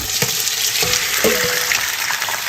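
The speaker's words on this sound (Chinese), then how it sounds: "锅里倒油，把鱼块煎一下。" Marinated, starch-coated fish pieces fry in oil in a wok, giving a steady loud sizzle and crackle with a few soft scraping knocks near the start, no voices.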